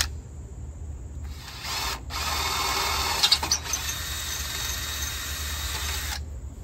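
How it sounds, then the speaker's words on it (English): A power drill bores a hole in a Humvee, whining steadily for about four seconds after a brief start, with a short stop and restart midway, close and fairly loud. "First, let's drill the hole on the Humvee."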